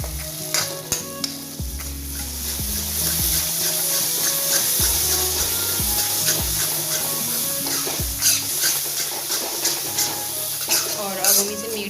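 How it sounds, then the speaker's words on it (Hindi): Masala frying and being stirred in oil over a medium flame for adauri ki sabzi, a steady close sizzle with repeated scraping strokes of the spoon throughout. "और अब हम इसे मीडियम फ्लेम पे ही फ्राई कर लेंगे"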